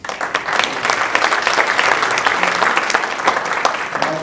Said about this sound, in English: I'm just going to pause and give a round of applause.